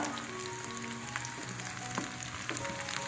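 Chopped shallots, coconut pieces and curry leaves with fenugreek fry in coconut oil, giving a steady close sizzle with scattered small pops and crackles throughout, no voices.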